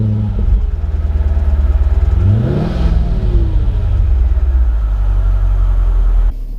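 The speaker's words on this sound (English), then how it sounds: "let's fire it up" A 2000 Mercedes-Benz S500 rumbles loudly and steadily up close, its engine note swelling and shifting pitch midway as it revs and pulls away, then settling back to a steady drone before cutting off abruptly.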